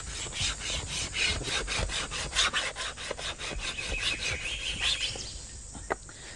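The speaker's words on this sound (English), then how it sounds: "You remove that varnish, and these wood fibres here are dry. And we can make that into two little tinder bundles by scraping." Dry bamboo wood fibres scraped into tinder, a fast run of rhythmic rasping strokes heard up close and moderately loud, slowing to a few separate scrapes near the end.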